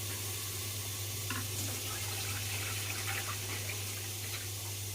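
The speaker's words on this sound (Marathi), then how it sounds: "पाणी फेकून द्यायचं आहे" Water poured off soaked urad dal runs and splashes steadily into a vessel, a continuous liquid pour with a faint low hum beneath it.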